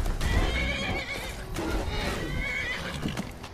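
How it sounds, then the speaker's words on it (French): A mare in Skyrim whinnies loudly and close, with hoof clatter and busy combat noise around it. "il y a mon cheval qui m'aide"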